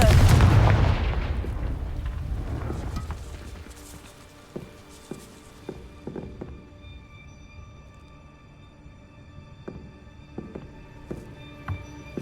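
A Confringo explosion spell in a magic video game goes off as a loud booming blast that rumbles away over a few seconds, followed by quieter scattered clicks and thumps like footsteps.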